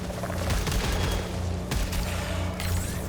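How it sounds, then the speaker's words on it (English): Rapid gunfire and a quick weapon reload from the video game Returnal, a dense, loud burst of shots running continuously with sharp transients throughout, alone without talk. "If you shoot all the way and then you hit the quick reload"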